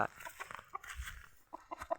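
Chickens on a small Thai farm, newly acquired birds including a Burmese-type fowl, giving a quick series of short, sharp clucks and squawks close by, irregular and moderately loud against a quiet yard.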